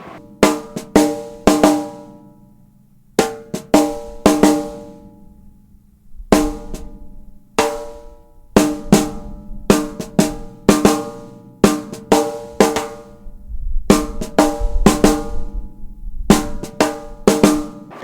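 Drums play a makossa pattern combining its first and second parts, a busy repeating cluster of sharp, ringing strokes with short pauses between cycles, loud and close with no voices.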